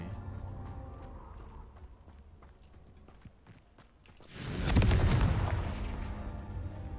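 Confringo fire spell in the Hogwarts Legacy video game erupting in a sudden loud whooshing blast past the midpoint, then rumbling and fading, after quieter game ambience with light footsteps-like taps.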